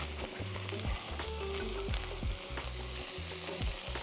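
Garlic frying in a pan for dirty rice, with a dense, continuous crackling sizzle and repeated stirring scrapes close up, fairly quiet overall and with no voices.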